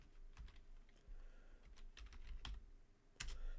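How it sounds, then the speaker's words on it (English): Quiet computer keyboard typing, a series of soft, close keystroke clicks in irregular bursts as a command is entered, with no voice. "just type down nix-channel"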